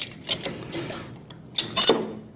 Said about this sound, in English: we can tighten down the bottom bolts.